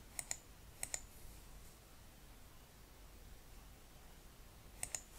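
Faint, quick clicks of computer keyboard keys come in small clusters near the start and again at the end, each key press short and crisp over a steady hiss of background noise.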